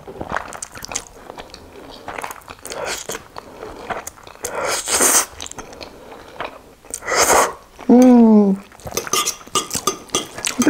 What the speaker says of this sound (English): So here is my first bite.